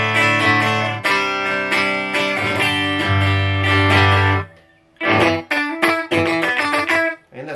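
An electric guitar played through a Fender Champion 40 amplifier on its green tweed model, with low distortion: ringing chords and notes, then a brief gap followed by choppier, staccato strums, loud and close with no talking.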